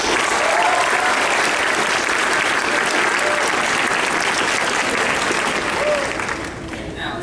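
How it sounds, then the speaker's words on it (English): A large crowd at a 2019 high school graduation ceremony applauds in a dense, sustained roar of clapping that stays loud and full before easing slightly at the very end. "let's have a special round of applause for those late arrivals"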